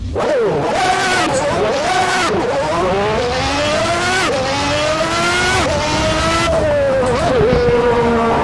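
A video game F1 race car engine screams and revs repeatedly, pitch climbing and dropping with each gear shift, loud and continuous.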